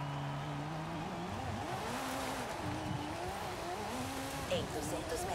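A Ferrari F40 in Forza Horizon 5 on a test drive, its engine note climbing and falling through gear changes with occasional tire squeal, sitting fairly quietly under someone talking.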